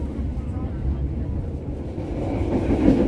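A passenger train rolls straight through Cicalengka station at about 40 km/h, heard from inside as a steady low rumble of wheels and carriage, with talk over it.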